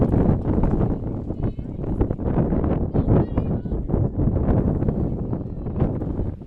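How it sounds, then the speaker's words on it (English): Strong gusting wind roars across an outdoor baseball field during a high school game, a loud continuous rumble buffeting the microphone with swelling surges throughout, while a commentator talks over it. "Wind is really gusting right now."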